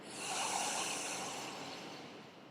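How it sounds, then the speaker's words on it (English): A single long exhale out through the mouth during calming evening yoga breathing, a soft breathy hiss that swells and slowly fades over a couple of seconds, close and alone. "it'll be an exhale out through the mouth 3 times round"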